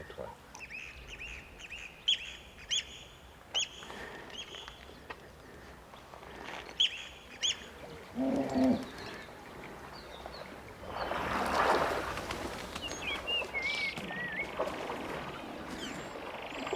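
Birds in an African peace park call repeatedly, close and fairly clear, with short quacking bursts spaced across the first half, then a louder chorus of chirps and warbles over faint background noise.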